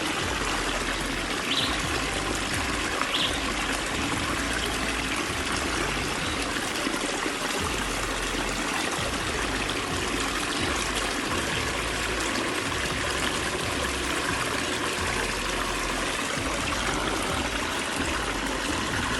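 River water rushes over rocks in rural Zimbabwe, a steady, loud, even wash of flowing water that continues unbroken from start to finish with no voices.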